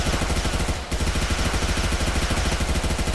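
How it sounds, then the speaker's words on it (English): Rapid, dense gunfire in the first-person shooter Xonotic, a loud continuous stream of repeating shots with a brief gap near the start. "Are we gonna have gunfire all the way?"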